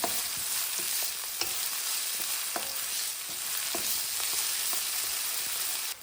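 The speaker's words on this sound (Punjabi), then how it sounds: "ਇੱਕ ਪਿਆਜ਼ ਬਰੀਕ ਕੱਟ ਕੇ ਲਿਆਇਆ ਇਹ ਪਾ ਦੇਣਾ ਮੀਡੀਅਮ ਸੇਕ ਤੇ 2 ਮਿੰਟ ਤੱਕ ਅਸੀਂ ਪਿਆਜ਼ ਨੂੰ ਭੁੰਨਣਾ ਹੈ" Finely chopped onion frying in a pan over medium heat for aloo matar sabzi, a steady close sizzle with occasional stirring scrapes and no voices.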